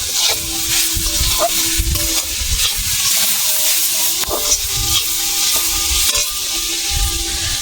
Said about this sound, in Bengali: আমি কুড়ে রাখা নারকোলটা দিয়ে দিচ্ছি, চিনি দিয়ে দিচ্ছি, ভালো করে একটু নেড়ে চেড়ে দিচ্ছি।